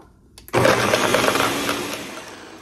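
Kitchen blender switching on for a smoothie, its motor jumping from quiet to a loud, steady whirring roar that slowly eases as the contents blend.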